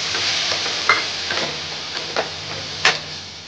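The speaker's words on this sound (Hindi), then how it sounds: "फिर चलाएंगे जब तक हमारी चीनी घुल ना जाए" A spoon stirs coconut barfi mixture with milk and sugar in a pan, a steady soft hiss of bubbling with a few light scrapes and taps against the pan, no voices.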